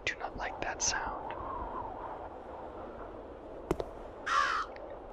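A crow caws in Root of Evil: The Tailor, a few short harsh calls up front and another louder caw near the end, over a quiet ambient bed with a sharp click in between and soft whispering.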